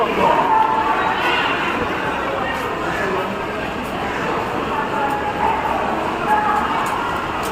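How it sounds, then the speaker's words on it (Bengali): A local suburban train heading toward Sealdah, steady rolling rumble and clatter filling the carriage, with people talking over the continuous noise. "আর এখন আমরা লোকাল ট্রেনে উঠে গেছি শিয়ালদা যাব বলে"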